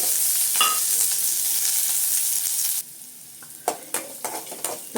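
Tempering of mustard seeds, dried red chillies, onion and curry leaves in hot oil for a chayote kootu, loud continuous sizzling that abruptly drops, followed by several sharp stirring scrapes and clinks against the pan.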